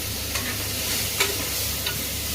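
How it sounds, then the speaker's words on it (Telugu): Tomato masala for mutton curry frying in oil, a loud, dense, continuous sizzle close up with a few light stirring taps scattered through, no voices. "టమాటా వాసన అనేది పచ్చి వాసన పోయేదాకా బాగా వేయించుకోవాలి"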